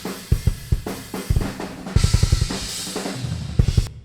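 Metal kick drum picked up by a Neumann TLM 107 microphone placed outside the drum, with a series of fast, punchy low thumps in quick bursts and roomy cymbal wash behind them.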